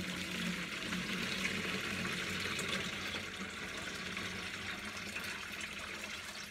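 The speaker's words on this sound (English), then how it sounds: "Pour 4 quarts of cold water" Cold water being poured into a plastic Mr. Beer brewing keg, a steady, fairly quiet continuous splashing and gurgling stream.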